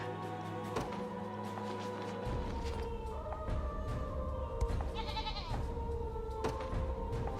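Goat bleats in the video game Unicorn Overlord: a steady wavering animal cry over continuous game music and layered chimes, moderately loud and alone, without talk.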